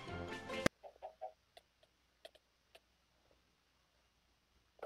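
A chicken in Minecraft gives a few short, faint clucks spaced over several seconds in near silence, after a brief burst of louder game sound at the start.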